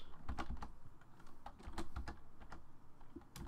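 Computer keyboard typing out C++ code, with irregular close, crisp key clicks and a few heavier strokes such as the return key, with no voices.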